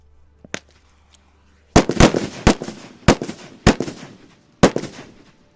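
Demonstration ammunition rounds fired on an outdoor range go off in a rapid sequence: a small pop, then about six sharp, loud bangs, each ringing out briefly before the next.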